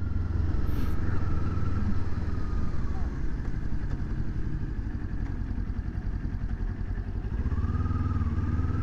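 A 2022 Kawasaki Z400 motorcycle engine droning steadily while being ridden, a loud continuous low rumble with road and wind noise throughout and a voice talking faintly over it.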